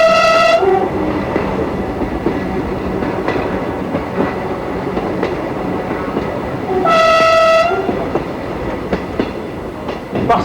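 Tourist train running on the scenic Lot valley railway line, rumbling loudly and steadily with wheel clatter, its horn sounding two long tones, one at the start and one near the end.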